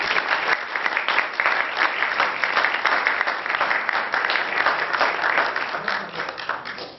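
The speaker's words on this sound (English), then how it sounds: "And give our expert panelists a round of applause for coming out." An audience at a law school water symposium claps for a panel of experts, a thick, even wash of applause that holds steady for several seconds before tapering slightly at the end, with no talking.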